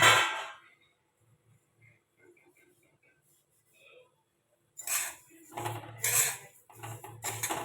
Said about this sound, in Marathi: असं सतत आपण ना हलवत राहायचं म्हणजे जवस छान सगळं भाजलं जातं